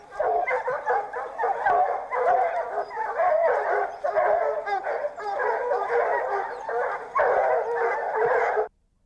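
Hunting hounds bay in a dense, continuous chorus while following a young stag's trail, overlapping yelps and howls rising and falling at moderate distance for about nine seconds before stopping abruptly.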